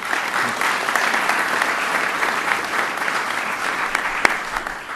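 Sustained applause from an audience at a spring Dream Team awards ceremony, a thick, even roar of many hands clapping throughout, fairly loud and near, with one sharper clap standing out near the end.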